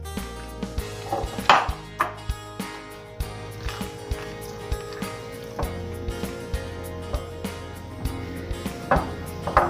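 Pão de queijo dough being mixed with an egg, a steady series of soft, regular thumps and slaps from the bowl under a constant background hum, with faint talking.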